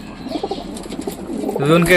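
Soft pigeon coos, including pouter pigeons, rise and fall in a low, rounded rhythm, fairly close, with some voices and murmuring mixed in beneath.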